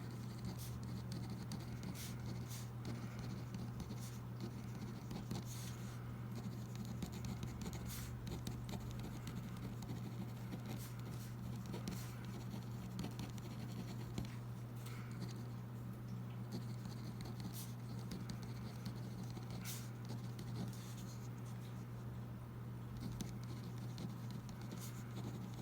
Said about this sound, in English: I'm just going to write it real quick.